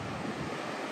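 Sea waves wash onto a sunny beach at Rayong on Thailand's coast, a soft, steady surf rush mixed with light wind noise.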